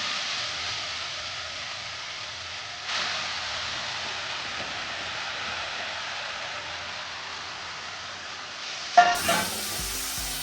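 Grated carrots frying in ghee, a steady soft hiss of sizzling with faint stirring, level and close throughout, ending in a brief clatter.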